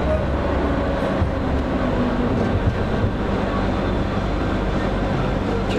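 Steady low rumble and rattle of a new Moscow Pesa Fokstrot tram in motion, heard from inside the car, continuous throughout with faint mechanical hum.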